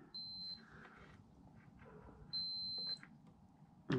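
A multimeter beeps on a continuity test while probing wiring on a Toro snowblower safety module, two steady high-pitched tones of about half a second each, separated by a pause, over faint background noise.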